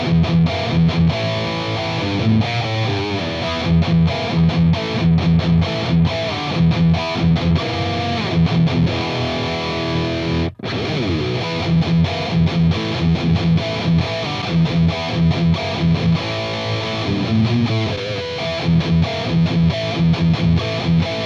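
Heavy, distorted electric guitar chugging through a PRS MT15 tube amp without an overdrive pedal, in a steady driving rhythm, loud and saturated, with a brief break midway before resuming.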